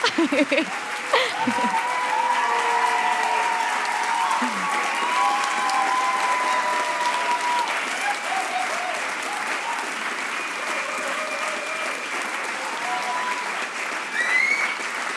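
A long, unbroken ovation from the audience at a speakers night at the European Forum Alpbach, thick, steady clapping from many hands, with occasional cheers and murmured voices drifting over the continuous wash.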